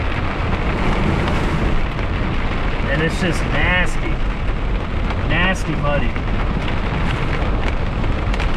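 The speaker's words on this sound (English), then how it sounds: "look at the ground from all the hail that's falling through here." Hail pelts the ground during a storm, a dense continuous roar of hard drumming that stays loud throughout while someone talks over it.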